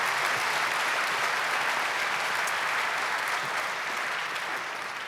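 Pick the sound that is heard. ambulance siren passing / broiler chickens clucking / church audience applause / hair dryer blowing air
church audience applause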